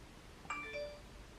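A short phone notification chime rings out once, a bright tonal ding with a brief second tone after it, fairly quiet over a low background hum.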